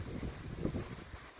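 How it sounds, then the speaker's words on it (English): Wind buffets the microphone outdoors beside a home weather station, a low rumbling gusty roar that swells and eases, with no voices. "It's windy today"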